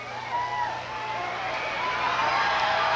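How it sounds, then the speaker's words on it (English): The crowd at a steel cage wrestling match roars and cheers, a dense rising wash of voices with whoops that swells toward the end and stays loud throughout. "this crowd roars for flamboyant Eric Embry"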